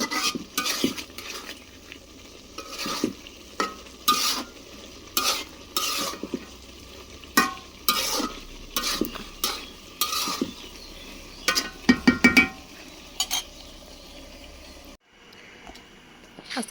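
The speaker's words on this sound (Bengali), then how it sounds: "সয়াবিনের তরকারিটা বসাই দিছি, ওইটা আমাদের হয়ে গেছে তরকারি। আস্তে আস্তে রান্না হয়ে যাচ্ছে।" A soybean curry cooks in a pan while a spoon stirs it in repeated scraping, clinking strokes against the metal over a soft background sizzle, ending with a brief quiet moment.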